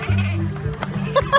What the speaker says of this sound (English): Listen to the goat. You can hear him talk.